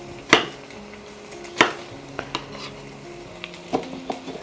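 Goat meat and onions frying in a pot as fresh tomatoes go in, with a few sharp utensil scrapes and stirring knocks over a soft background sizzle, no voices.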